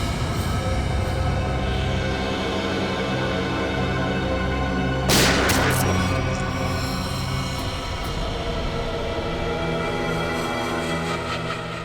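A sharp burst of a few rapid gunshots cracks out midway over a dense, droning background of tonal noise.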